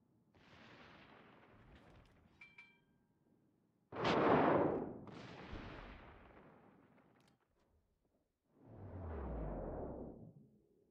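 Heavy naval guns boom in World of Warships, several loud blasts with rolling, rumbling tails spaced a few seconds apart, the strongest in the middle and a deep final salvo near the end.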